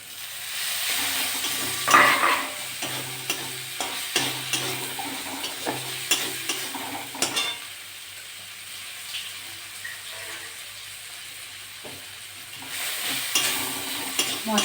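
Spice paste for a pangas fish curry frying in a pan, a soft sizzle with scraping stirs and occasional clinks, moderately quiet and close, swelling louder near the end.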